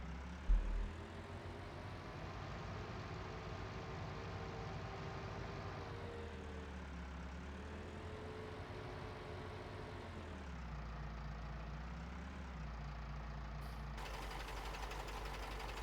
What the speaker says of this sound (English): Park the truck in the middle of the field here